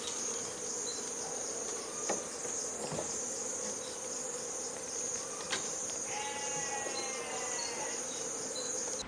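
Honey bees buzzing at a beehive during harvest, a steady high droning hum with faint chirping insects and occasional soft knocks, fairly quiet and without clear speech.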